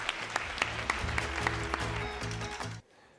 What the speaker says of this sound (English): Let's give a final round of applause for the team behind Listen Up